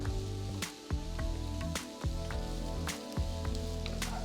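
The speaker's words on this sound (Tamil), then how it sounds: "அடுத்து 2 பெரிய வெங்காயம் மெலிசா நறுக்குனது சேர்த்து நல்ல பொன்னிறமா வதக்குங்க." Steady sizzling of thinly sliced onions frying to golden in a hot pan, with soft wet crackles and occasional clinks, close and continuous, no voices.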